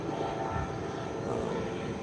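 A medevac helicopter flies overhead, its steady engine and rotor drone filling the air with no pauses and staying moderately loud throughout, while low outdoor background noise runs underneath.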